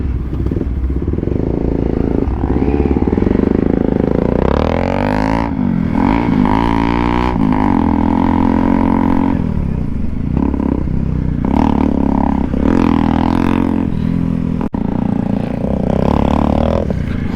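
Off-road motorcycles, including a Triumph Tiger 800, ride a dirt track with loud, close engines revving and surging continuously, pitch rising and falling as they accelerate, with clattering and scraping from the rough ground.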